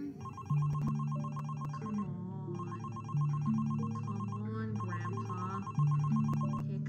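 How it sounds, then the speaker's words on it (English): A phone rings in a Squid Sisters animation, a repeating electronic ringtone melody in bursts over a low tonal backing, loud and steady throughout. "Pick up the damn phone."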